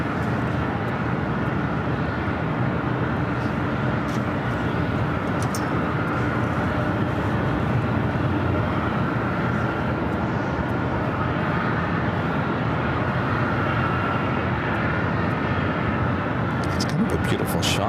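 An American Airlines Airbus A321 arriving from SFO at LAX gives a loud, continuous jet roar that holds steady for the whole stretch, with a voice talking over it.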